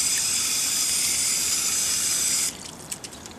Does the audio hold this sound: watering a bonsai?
yes